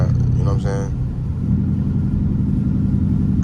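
A Ford Mustang 5.0 rumbles steadily with a deep, continuous low engine tone while driving in the rain, a brief voice-like burst near the start and otherwise unbroken drone.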